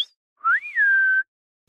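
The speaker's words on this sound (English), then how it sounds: "I whistled loudly" A person gives one loud, clear whistle outdoors at night toward a tree line, a short rising note that peaks and then holds steady before stopping abruptly, with silence around it.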